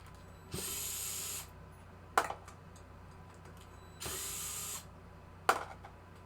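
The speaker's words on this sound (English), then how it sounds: "I'll take these screws out." Screws come out of the gear assembly of a 1974 Gottlieb pinball head, with two bursts of a power driver whirring, each followed by a sharp click of the screw releasing, close and alone in a quiet room.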